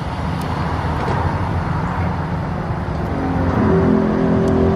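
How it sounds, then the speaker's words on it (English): Air compressors on a 44-foot Diamond C gooseneck trailer with air suspension kicking on, a steady mechanical hum that swells and gains a tonal whine partway through. "Here the air compressors kick on as it got down to the lowest point."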